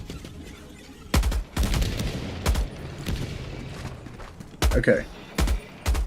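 Wasp weapon firing in an online shooter game, several loud, sharp blasts arriving in separate bursts with short gaps, while a player talks briefly over the gunfire.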